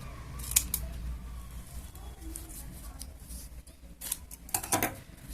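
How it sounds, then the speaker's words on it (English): Scissors snipping away excess paper pieces from a paper puppet, several sharp crisp cuts in irregular bursts, close and fairly quiet against a soft room background. "Cut off the extra unnecessary pieces."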